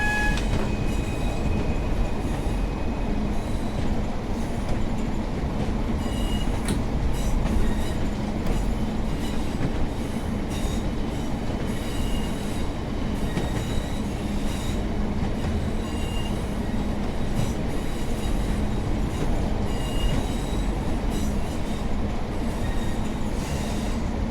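A British diesel multiple unit train runs on rails with a steady, loud rolling roar, continuous wheel noise and rhythmic clickety-clack, plus an occasional faint squeal.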